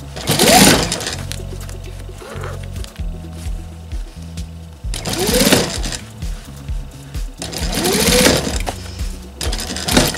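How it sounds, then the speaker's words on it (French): A sewing machine stitches along the folded hem of a pair of jeans, running in several loud motor-driven bursts of rapid stitching separated by short pauses, with no talking. "Là ça va être facile, je vais coudre nervure."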